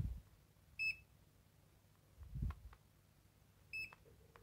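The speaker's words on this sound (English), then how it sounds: "As you can see, it's beeping for a second and stopping" Fluke contactless voltage detector giving two short, clear electronic beeps about three seconds apart, each lasting a fraction of a second, with a soft handling thump between them in a quiet room.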